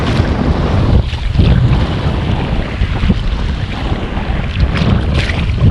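Strong coastal wind on a beach buffets the microphone in a constant roar, with water and waves washing underneath, loud and unbroken throughout.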